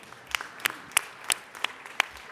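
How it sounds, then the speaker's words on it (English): A small group at a city council meeting claps sparsely, about six distinct, spaced claps ringing out in a quiet room rather than full applause. "Let's give them a round of applause."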